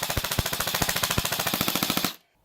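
A G&G CM16 airsoft rifle fires a rapid full-auto burst of about two seconds, each shot crisp and evenly spaced in a fast mechanical rhythm, then stops abruptly into silence.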